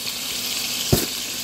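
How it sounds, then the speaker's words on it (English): Swedish meatballs sautéing in a skillet with little oil give a steady bright hiss and sizzle, close and continuous, with one brief louder clatter near the middle. "It don't even take long to really fry them, is it? Because I'm just sauteing."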